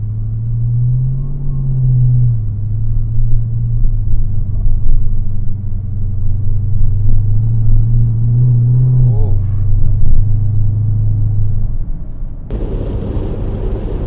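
Supercharged Dodge Magnum SRT-8 on air suspension, its engine a deep loud drone as it accelerates while driving, with rising pitch through shifts and a blip near the end, heard from inside the car.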